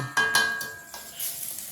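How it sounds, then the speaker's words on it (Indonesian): An omelette fries in a wok at home. Two quick metallic clinks open, then a soft rising sizzle builds as the egg hits the hot oil, with no talk. "Dia goreng telur dadar, seleranya dia sendiri."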